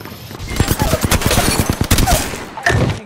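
Rapid bursts of gunfire fill a firefight in the video game Apex Legends, with dense overlapping shots, loud and close, and a short pause before another volley.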